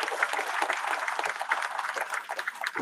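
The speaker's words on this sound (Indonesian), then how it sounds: "Beri tepuk tangan untuk Sumedang." A crowd applauds at a public gathering in Sumedang, with dense, steady clapping that fills the clip at moderate loudness for about three seconds.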